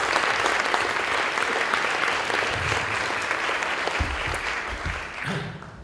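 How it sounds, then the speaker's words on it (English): Sustained applause from a conference audience at a stem cell research symposium keynote, a dense steady wash of clapping that holds for several seconds before thinning out at the end. "Can we give them a hand of applause?"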